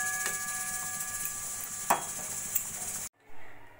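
A taro root and katla fish curry is stirred in a pan, with a few metallic spatula scrapes and clinks over a soft simmering sizzle. The sound is quiet and close, then cuts off abruptly near the end. No one speaks.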